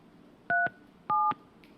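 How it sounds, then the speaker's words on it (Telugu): Telephone keypad dialing tones as a news team places a call to an MLA: two distinct two-tone DTMF beeps, each about a fifth of a second, separated by a short pause over quiet background. "ఒకసారి మన పీసీఆర్ టీం కూడా ఆ కోనేటి ఆదిమూలంకి ఫోన్ కలుపుతా ఉన్నారు."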